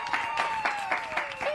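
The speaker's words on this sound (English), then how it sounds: "let's give a round of applause as he joins us" A small studio audience on a Sunday evening news show claps in a light, uneven patter as a guest walks on, while a steady sustained tone hums beneath and some voice activity mixes in.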